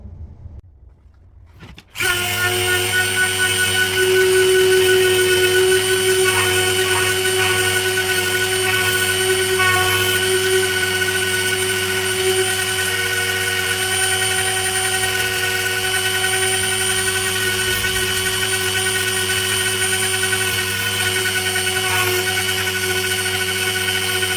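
A Dremel rotary tool grinds a metal pick clamped in a vise. After a short quiet start it spins up into a loud, steady high-pitched whine that holds for over twenty seconds, with no voices.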